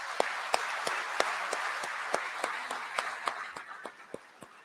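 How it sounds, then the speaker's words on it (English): A civic audience at a city address applauds in a steady, fairly faint wash of many hands, with individual claps standing out in a loose rhythm and the clapping thinning out toward the end. "Let's give them a big round of applause."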